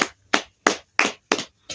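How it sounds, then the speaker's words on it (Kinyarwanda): Church congregation clapping hands in praise, six sharp, evenly spaced claps about a third of a second apart, close and fairly loud with no voices over them. "mwafasha gukomera Imana amashyi ku by'imbaraga yakoze"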